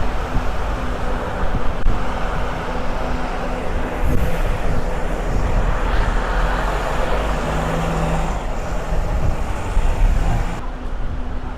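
Strong gusty wind sweeps a street near Mut Wah Street and Hip Wo Street in Kwun Tong, Hong Kong, after a typhoon, a steady broadband roar buffeting the microphone with a low traffic rumble beneath throughout.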